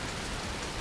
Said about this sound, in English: Let's go and get back in the coach out of this torrential rain